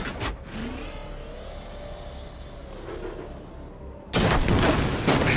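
The Batmobile from Batman: Arkham Knight drives with a mid-pitched engine hum and a rising whine. After a brief quieter stretch, a loud burst of firing and explosive booms breaks in near the end.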